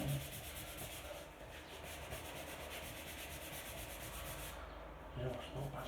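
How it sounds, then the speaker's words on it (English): Sandpaper of 100 grit rubs back and forth over a chipped wooden dining table top, a steady close scratchy hiss of hand sanding with no talk. "let's see if we can sand it smooth a little bit"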